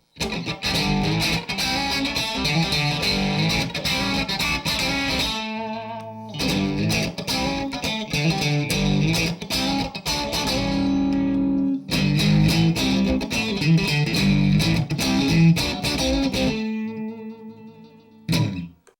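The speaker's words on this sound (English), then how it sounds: "The sound of vintage single coils." Electric guitar through Seymour Duncan SHPR-1 P-Rails pickups in vintage single-coil mode, bright, clean tone with effects, playing chords and riffs in three phrases with short pauses, ending on a ringing chord.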